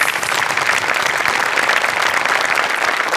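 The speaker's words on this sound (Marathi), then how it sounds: "तर त्यांच्यासाठी आपण टाळ्या वाजवूया." A studio audience at a comedy TV show gives loud, sustained applause, a dense, steady wash of clapping with no voices heard.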